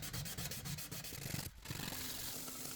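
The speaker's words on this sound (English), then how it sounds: "I just continued sanding the plate with increasingly finer grades of abrasive paper" Abrasive paper, around 600 grit, is rubbed by hand across a stainless steel plate for boat railing brackets. The rasping strokes are steady, rhythmic and close, with one brief pause midway before the scraping resumes.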